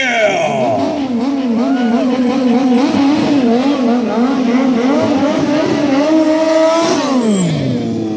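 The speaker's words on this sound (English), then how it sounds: "he is riding a highly modified Triumph Street Triple R, the naked version of Daytona 675" A highly modified Triumph Street Triple R naked motorcycle at a stunt show, its engine loud and close, revving and wavering in pitch throughout with a rising roar before settling.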